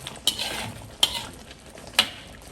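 A spoon stirring mutton karahi in ghee in a pot: three light metallic scrapes and clinks about a second apart over a soft sizzle, close and fairly quiet.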